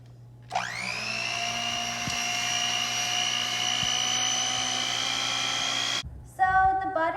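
Electric mixer whisking butter until creamed for macarons, a loud steady high whine starting abruptly and running about five and a half seconds before cutting off, followed by brief voices.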